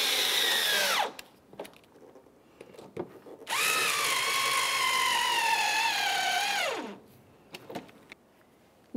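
A cordless power drill drives fender liner mounting screws on a 2004-2015 Nissan Titan in two loud, close whirring runs, each winding down as the screw seats, with small clicks and handling noises in between.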